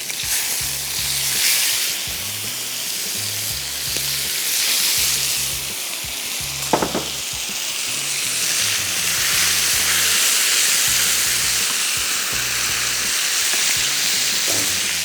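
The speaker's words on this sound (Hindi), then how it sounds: "हम जब तक सब्जियों को मिक्स कर रहे हैं और स्टेक पक रहा है" Chicken steaks and vegetables cooking in a pan, a steady loud sizzle and frying hiss throughout, with rhythmic low background pulses and a brief clatter of stirring near the middle.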